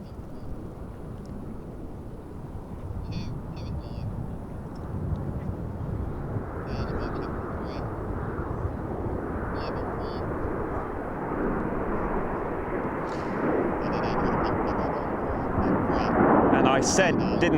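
Frecce Tricolori display team jets at the Royal International Air Tattoo 2022, two groups pitching up into opposing loops: a steady, broad jet roar that slowly swells and grows louder toward the end, heard from the ground at a distance.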